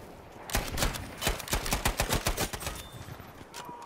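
A suppressed M3 Grease Gun fires in Battlefield 5, several quick bursts of muffled, thudding shots close up, with the rhythm shifting and tapering off toward the end.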